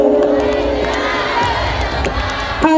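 A crowd at a jangi qawwali contest in Maharashtra bursts into loud, sustained clapping and cheering. The applause fills the whole stretch, with some shouts mixed in.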